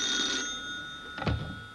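A telephone bell rings in a family home, a short, loud burst of ringing with a steady tone that fades out, followed by a brief low thump.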